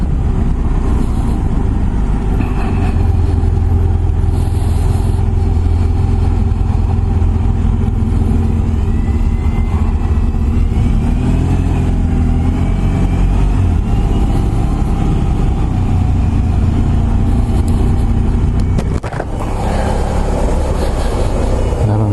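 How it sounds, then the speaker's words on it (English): Road traffic heard from a motorbike on a morning commute, a loud continuous engine and road rumble with passing vehicles and wind noise, no talk. "Traffic!"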